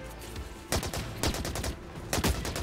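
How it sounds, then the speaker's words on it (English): Rapid bursts of gunfire from the video game The Cycle Frontier, loud and close, with several clustered volleys cutting through a dense, busy game soundscape. "I was shooting them from the right, eh?"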